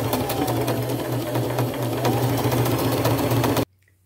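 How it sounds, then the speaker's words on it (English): A sewing machine runs continuously for about three and a half seconds, top-stitching denim cargo jeans, with a steady rapid mechanical whir heard up close before it stops abruptly. "I'm going to do a top stitch. I'm going to stay close to the top here and try to stay as straight as I can"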